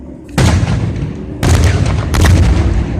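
Fireworks at a baseball game boom in three heavy, loud blasts about a second apart, each a broadband thud with rumbling decay, and the crowd murmurs faintly underneath.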